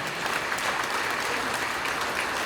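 Audience applause at a Tamil speech event fills the space, a dense, steady wash of many hands clapping at close range.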